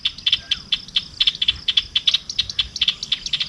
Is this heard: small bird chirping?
yes